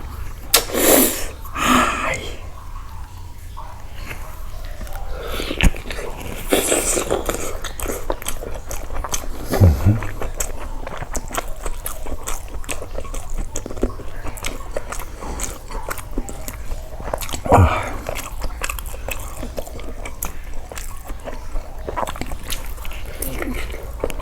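Shumai dumplings topped with crispy fried garlic being bitten and chewed close up, with scattered wet crunchy bites and mouth sounds spread over the stretch and a couple of sharper crunches standing out.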